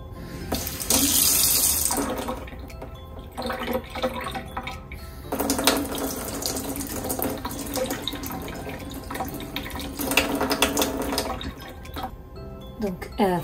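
Cold tap water runs from a faucet into a sink to prime a Berkey black filter element, a steady rushing splash that swells and changes pitch as the flow shifts, close and continuous.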